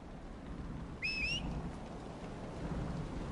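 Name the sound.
rain and thunderstorm in Dragon Age: Inquisition video game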